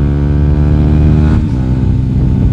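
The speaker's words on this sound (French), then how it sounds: "t'as juste à commencer à accélérer, tu sens la vitesse. Tu sens la puissance de ta moto" A motorcycle revs hard as it accelerates, its loud, close engine note holding steady before a brief dip and shift midway, with no talking.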